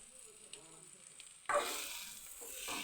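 Quiet kitchen stillness breaks into a sudden loud sizzle as food coated in salt, chili powder, garlic, pepper and turmeric drops into a little hot oil, then keeps up a bright, steady frying hiss.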